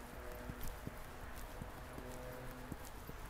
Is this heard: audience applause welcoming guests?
no